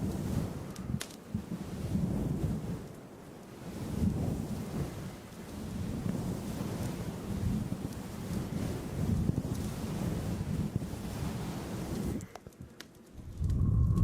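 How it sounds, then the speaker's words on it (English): Fluffy windscreen cover on a microphone being rubbed during a live ASMR session, a loud continuous low rushing and swishing that swells and ebbs like ocean waves, close up and steady, briefly dipping near the end. "isn't the fluffy mic cover so good?"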